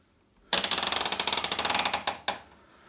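A Hotpoint FETC70BP condenser tumble dryer starts a program, giving off a fast run of about twenty rhythmic mechanical clicks like a ratchet, then a couple of louder separate clacks, close and clear with no speech.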